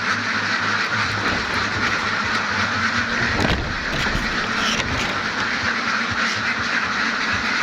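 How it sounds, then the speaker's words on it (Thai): Farm ducks quacking as they eat, a crowded, constant chatter of many birds nearby, with a low steady background drone running beneath the flock. "น้องเป็ดจะกำลังกินอาหารนะจ๊ะ"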